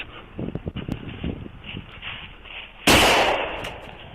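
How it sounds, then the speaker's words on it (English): Gunshots fired at an Arkansas sheriff's deputy, heard from a dashcam with a roadside background, ending in a sudden loud close burst that lingers before fading slightly. "Shots fired! Shots fired!"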